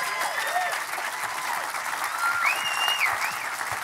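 Audience applause on stage for Elizabeth Streb: steady, dense clapping from a crowd lasting several seconds at even volume, with a few faint whistles over it.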